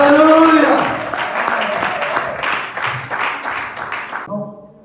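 Church congregation applauding and cheering together to acclaim Jesus, a loud sustained wash of clapping that fades slightly and then cuts off, with voices mixed in.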